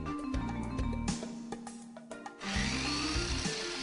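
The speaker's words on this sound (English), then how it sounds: "Cutting with a steel cutting saw blade allows high-speed cutting not possible with a cut-off wheel." A steel-cutting alloy saw blade slicing through metal at high speed, giving a loud, continuous harsh grinding and whine up close, with a brief dip in the middle before the cut resumes at full intensity.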